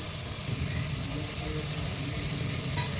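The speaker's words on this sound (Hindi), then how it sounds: "देखिए, हमने दाल को थोड़ा सा भून लिया है" Dal with spices sizzles and fries in a pan, with a continuous crackling hiss and faint scraping of stirring, steady and close.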